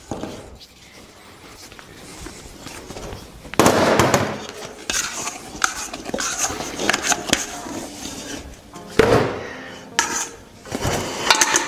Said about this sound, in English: Now we'll get it off the machine and put it on the table. Right, we'll take out the mixing bowl.